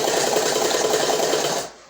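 A sewing machine runs a loose basting stitch along a collar with buckram interfacing, a fast, even, loud mechanical whir that stops abruptly near the end.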